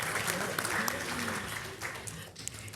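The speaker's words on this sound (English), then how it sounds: "you guys are clapping." An audience at a JSE investment panel event claps briefly, a soft, moderately close patter of applause over about three seconds with faint talk mixed in.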